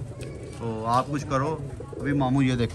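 Pigeons fed millet and chickpeas give soft, throaty rolling coos in several close, repeated phrases, heard beneath someone talking casually nearby.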